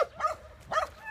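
Dogs in a shelter's outdoor dog run, giving two short barks about half a second apart, fairly close and moderately loud against a quiet background.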